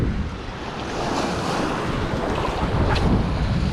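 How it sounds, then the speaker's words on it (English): Ocean waves crash steadily on a reef after a hurricane, a loud, continuous broadband surge with gusting wind buffeting the microphone and no voices. "These waves are soaking me"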